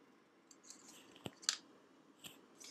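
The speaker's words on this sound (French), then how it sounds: "Je vais juste couper un petit peu au niveau des angles des 4" Scissors snip the corners of paper in a few quiet, separate cuts, sharp and close, with soft rustling between them in an otherwise still room.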